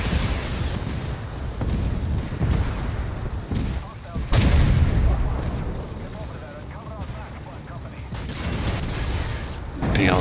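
Tank battle in the online game Armored Warfare: heavy cannon blasts and explosions boom over constant engine and track rumble, loud and close, with occasional talk.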